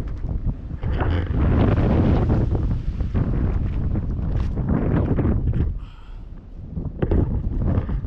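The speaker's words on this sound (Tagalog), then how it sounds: "Hangin." Wind blows hard outdoors and buffets the microphone in heavy, uneven gusts. A loud rumbling roar swells and dips, easing briefly near the end before it surges again.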